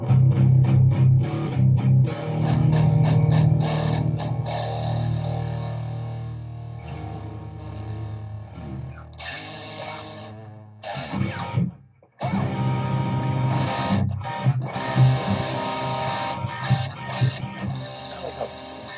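Electric guitar played through a Mills Custom Hatchet 50 amplifier, giving a sizzly, bright distorted tone with ringing chords and short riffs broken by pauses and a brief drop in level.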